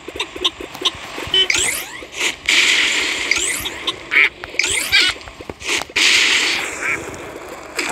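Cartoon birds in the video game Kick The Buddy let out loud, rapid quacks and squawks, repeated in bursts with sharp clicks and whooshes between them.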